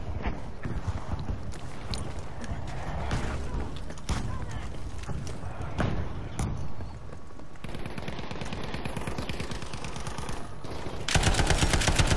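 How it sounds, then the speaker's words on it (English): Rapid gunfire in the World War II shooter Battlefield V, with dense bursts of automatic fire crackling over continuous battlefield noise throughout, and a louder, sharper stretch at the end. "Someone's shooting at me now, really?"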